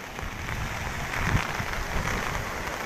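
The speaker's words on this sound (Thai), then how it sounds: "ตอนนี้มีฝนตกลงมาด้วย" Rain falls steadily during Tropical Storm Pabuk on the Thai coast, a dense even hiss with a slight swell in intensity, heard alone without voices.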